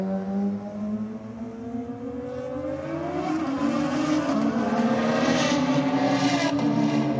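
A Toyota GR Yaris and a car called Teflon drag race side by side at Sydney Dragway, their engines roaring loudly together and climbing in pitch as they accelerate down the strip.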